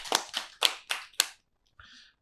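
Studio audience applause welcoming guests onto a Korean rural talk show, five loud bursts of clapping in quick succession followed by a short faint tail of sound.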